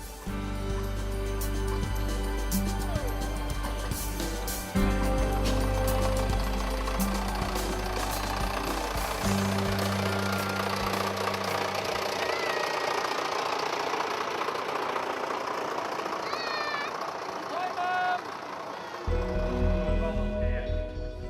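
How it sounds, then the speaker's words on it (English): Working model steam engines chug and clatter nearby in rhythmic, mechanical pulses at a steam rally, with a background of crowd chatter and shifting machine tones. "an impressive collection of working model steam engines on display"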